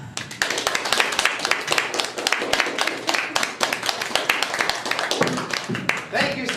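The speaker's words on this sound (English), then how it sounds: "Thank you so much for that wonderful round of applause" Audience applause welcoming a magician onstage, steady crisp clapping from a modest crowd that carries on without a break, fairly close and even, thinning slightly toward the end.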